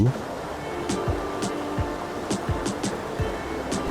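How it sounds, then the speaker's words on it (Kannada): Gaganachukki Bharachukki falls, where the Kaveri and Kabini rivers plunge from a height, give a steady broadband roar of rushing water, heard from the approach past the checkpoint, with scattered soft knocks and thumps over the constant rush. "ಚೆಕ್ಪೋಸ್ಟ್ ದಾಟಿ ಮುಂದೆ ಬಂದಾಗ ಕೇಳುವ ಜಲಪಾತದ ಶಬ್ದಗಳು"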